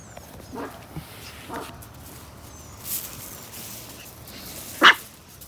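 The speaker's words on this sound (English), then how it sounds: "Yeah, see, she heard her mother bark." A Miniature Australian Shepherd mother dog barks a few times at a distance outdoors, soft yips and one sharper, louder bark near the end over quiet background noise.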